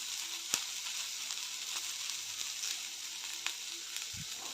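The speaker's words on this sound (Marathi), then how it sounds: "गवारी चांगली भाजलेली आहे आता ह्यामध्ये मी अर्धा चमचा हळद घालते" Cluster beans (guar) fry in a pan with turmeric, giving a steady, soft sizzle with a few faint clicks and a brief low knock near the end.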